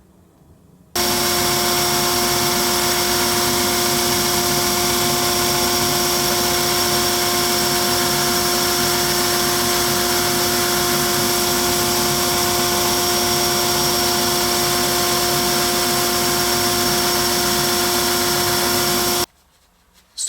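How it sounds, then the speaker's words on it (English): A belt sander grinds metal parts for a sliding T bevel, a loud, steady whirring drone that starts abruptly, runs continuously for about eighteen seconds at close range, then cuts off. "I'm going to take it over to the belt sander and I'm going to sand this all around it to make everything mesh together"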